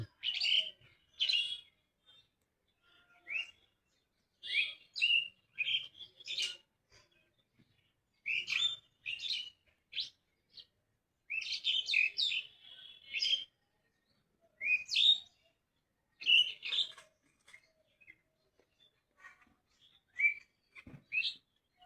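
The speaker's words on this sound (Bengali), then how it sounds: "ডালিম গাছে পাখির গান" Birds sing in a pomegranate tree in Rangpur, including mynas and bulbuls, giving a string of bright chirps, whistles and short trilled phrases in irregular bursts. The calls are close and clear over near silence, with no talking.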